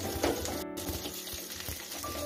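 A soft, steady sizzle of chopped onion frying in oil in a pan, with faint stirring scrapes and small crackles throughout.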